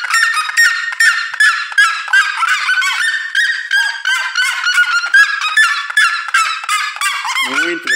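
Chickens, guinea fowl and seriemas call loudly and close by in a dense run of harsh, repeated honking cries that overlap without pause.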